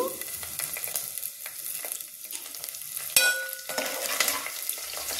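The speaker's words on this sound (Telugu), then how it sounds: "తాలింపు వేగిపోయింది కదా, కరివేపాకు వేద్దాం ఇప్పుడు." Curry leaves dropped into sizzling tempering oil for mango dal, with close, crackling frying and stirring scrapes, a sharp burst partway through as the leaves hit the hot fat.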